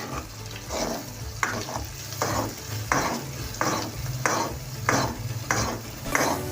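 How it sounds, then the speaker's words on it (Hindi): A spoon stirs egg, onion and tomato bhujia in a pan over a raised flame while it cooks down until dry. Steady, rhythmic scraping strokes come roughly every second over a continuous close sizzle, with no talking. "अब हम इसके अंदर चम्मच चलाते रहेंगे जब तक ये बिल्कुल खुश्क ना हो जाए।"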